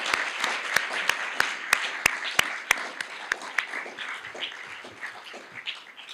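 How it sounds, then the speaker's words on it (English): A college of business alumni awards crowd gives a final round of applause for the award winners, loud, separate claps at first that thin into a softer, scattered patter. "what about another final round of applause for our award winners?"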